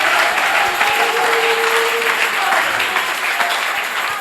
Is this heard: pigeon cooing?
no